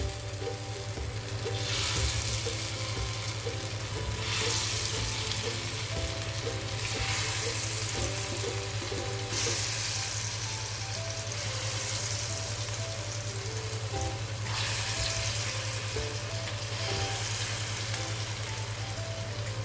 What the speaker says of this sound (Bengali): এখন আমি ফ্রাই করে নেব বড়াগুলো